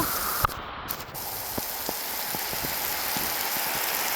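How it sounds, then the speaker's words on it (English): Heavy rain in full swing on a coastal beach hike between Granville and Cedros, a dense steady hiss of falling water with a few sharp drip ticks and brief rustles near the recorder. "So the rain is in full swing now."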